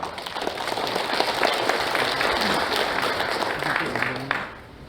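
An audience at a founding assembly of a bereaved families' federation applauds to welcome a guest chairman, a dense, steady wash of many hands clapping that holds for several seconds before tapering off, with some murmuring underneath.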